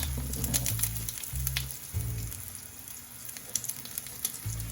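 Crab cakes frying in a non-stick pan, a steady oil sizzle with bursts of low rumbling crackle that come and go, close and fairly quiet, with no talking.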